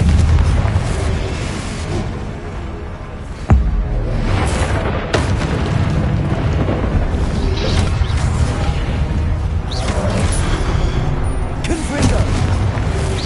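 Confringo blasting curse in a Harry Potter video game, a dense continuous rumble of booming blasts with a sharp crack partway through, loud throughout, with a voice calling out over it.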